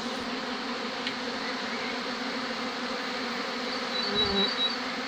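A dense, steady hum of many young honeybees on an orientation flight, close and continuous, with a few individual bees droning louder as they pass.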